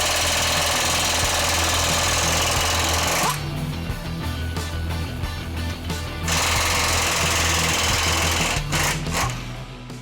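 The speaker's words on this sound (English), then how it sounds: "Loosen all 4 cam bolts." A pneumatic impact wrench loosening the cam bolts on a 2016 Toyota Tundra suspension rattles loudly in long continuous bursts, with a short pause in the middle and brief final hits.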